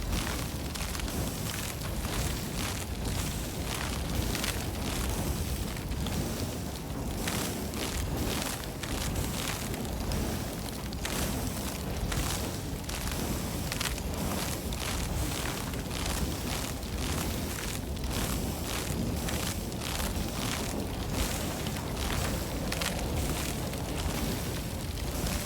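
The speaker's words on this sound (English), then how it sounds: "So trying to prevent the fire from spreading further. Oh, now I set myself on fire" Fire burning in the Icarus survival video game, a dense continuous roar and crackle with wind-like rushing that stays loud and unbroken throughout.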